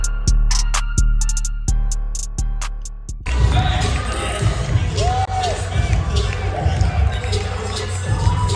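A crowd at a dance battle roars and cheers loudly and continuously after a few opening beat thumps, with shouts rising out of the din.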